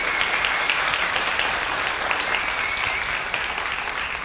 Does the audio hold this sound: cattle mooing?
no